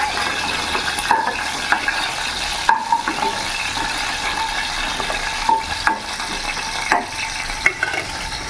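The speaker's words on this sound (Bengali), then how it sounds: "আর আমি চিকেনগুলো একেবারে মিডিয়াম আঁচে ভাজছি।" Chicken pieces frying in a pan over medium heat for chilli chicken, a steady close sizzle and crackle broken by repeated scraping and stirring clinks of a spatula against the pan.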